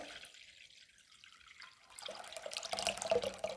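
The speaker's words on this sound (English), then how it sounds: "for our brew, we're going to use some cranberry juice. Okay, we'll pour that in there" After a quiet start, cranberry juice pours into a bowl, a soft trickling splash that grows into a steady, gurgling stream of liquid nearby.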